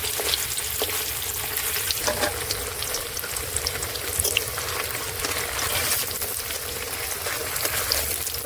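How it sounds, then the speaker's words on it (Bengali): Paneer pieces fry lightly in hot oil, giving a dense, continuous crackling sizzle with faint bubbling and a few soft taps, steady and close throughout with no voices. "হালকা হালকা ভেজে নেব, খুব বেশি ভাজবো না।"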